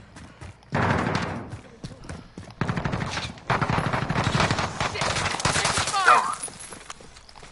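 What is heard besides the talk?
gunfire in video game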